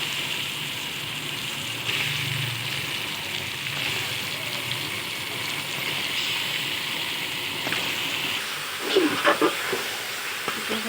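Chicken pieces fry in a pan with a steady, soft sizzle and hiss, broken by occasional scraping and stirring clatter, loudest in a short burst of utensil knocks near the end.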